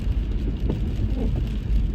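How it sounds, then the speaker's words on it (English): Steady rain on a rainy day, heard from inside a moving car on a city street, a constant dense wash of drops over low road rumble, fairly loud with no talk. "It is a rainy day"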